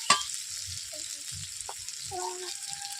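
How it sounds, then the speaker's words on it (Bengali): Spice paste for a bitter gourd and mixed vegetable chhechra fries on low heat, a soft, steady sizzle with faint stirring scrapes and a sharp clink at the start. "এইভাবে দু মিনিট আমি কষিয়ে নিয়েছি বন্ধুরা অল্প জ্বালানি দিয়ে যাতে মশলাটা পুড়িয়ে না যায়"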